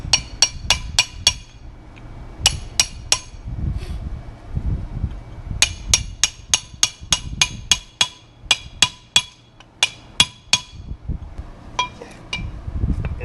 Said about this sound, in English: I'm just going to smack these things down a little bit